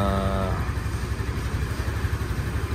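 A Honda Super Cub 125 motorcycle engine runs steadily at a low, even idle close by, with a brief voice at the start.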